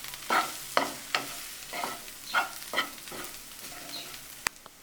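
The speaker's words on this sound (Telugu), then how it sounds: "వేసి మెల్లిగా తిప్పుకోవాలండి" Egg and drumstick curry being stirred in a pan after chilli powder goes in, a series of about seven scraping spoon strokes in a loose rhythm over a faint sizzle, ending with a sharp click.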